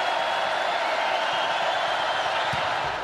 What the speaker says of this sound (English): Crowd trying to get in it here at the Devaney Sports Center